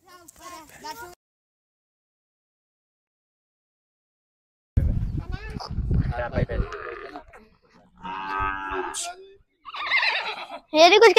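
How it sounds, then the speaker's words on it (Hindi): A mare neighs in a few short, rough whinnies separated by silence, close to the microphone, while people talk nearby between and over the calls. "ये घोड़ी है ना, ये घोड़ी है।"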